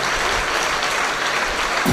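A congregation clapping hands together at a Kreupasanam covenant prayer retreat: dense, loud, continuous applause from a large crowd that fills the whole stretch without a break.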